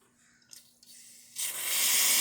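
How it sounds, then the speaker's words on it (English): Hot water dispensing from a Lelit Bianca espresso machine after a tune-up: a few faint clicks and a soft trickle, then a louder, steady hissing spray of water building toward the end. "Test the hot water."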